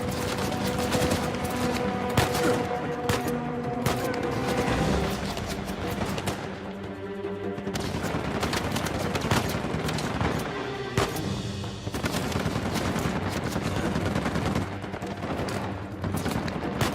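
Gunfire fills an Uncharted 4 firefight, with sniper rifle shots and grenades in the mix: dense, continuous bursts of rapid shots and heavy blasts keep going with only a brief dip partway through.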